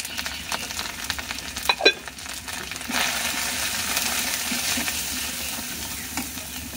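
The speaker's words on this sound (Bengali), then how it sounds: "রান্নার জন্য আমি সরষের তেল ব্যবহার করছি, আর কড়াইতে কিন্তু তেল দিয়ে পেঁয়াজ কাঁচামরিচ দিয়ে দিচ্ছি।" Sliced onion and green chillies fry in mustard oil in a wok, with a few spatula knocks at first, then a steady, close sizzle that carries on without any talking.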